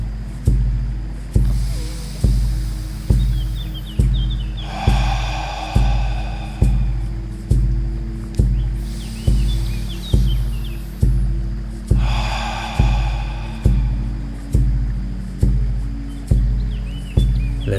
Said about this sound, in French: Encore 2 respirations profondes ici.